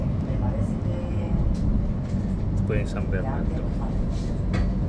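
Steady low rumble and rattle of a moving rail carriage, with a person speaking over the noise and faint announcement tones.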